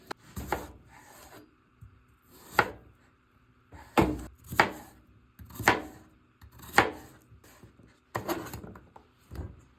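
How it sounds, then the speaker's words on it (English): A kitchen knife dices peeled potatoes into cubes on a cutting board, making sharp, evenly spaced chops about once a second with quiet scraping between strikes, close and clear with no talk. "Potatoes are peeled and now I'm just dicing them into cubes"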